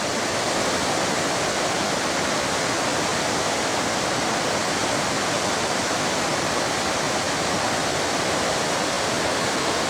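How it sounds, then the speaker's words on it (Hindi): Two rivers meet at a mountain confluence in Uttarakhand, a steady, loud broadband roar of rushing water that stays constant throughout with no speech over it. "ये है संगम। एक नदी इधर से, एक नदी इधर से"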